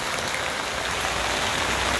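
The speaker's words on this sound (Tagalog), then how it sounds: "Bigla pong umulan mga kalingap." Sudden rain pours down in a steady, dense hiss close by, with continuous spattering on surfaces and no voices.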